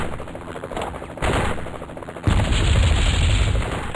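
Loud, sustained automatic gunfire hits a rescue helicopter in the Spycraft: The Great Game PC game, starting as a steady rattle and then surging into a heavier, denser barrage with no speech.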